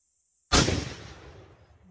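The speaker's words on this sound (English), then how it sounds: "Just gonna take some shots and see exactly maybe if I can hit this on the first try." A single sharp gunshot cracks out loud and close after a moment of silence, fired at a painting target, its echo and rumble fading slowly over the following second.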